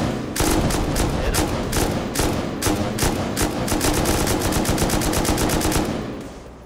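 Rapid automatic gunfire from the video game Rust rattles in fast, loud, continuous bursts, nearly unbroken across the clip with a brief gap near the start and a clean stop at the end.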